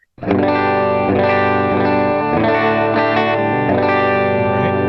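Strummed electric guitar chords ring out through a Line 6 Helix patch, several sustained distorted chords changing every second or so, loud, close and alone.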